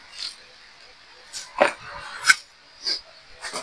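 A dog barks at home, a few short sharp yelps spaced out over several seconds with quiet gaps between them.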